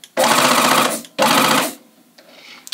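A serger's air-threading system fires at a button press to thread the upper looper, giving two loud sustained blasts of rushing air and motor noise, followed by a faint mechanical click.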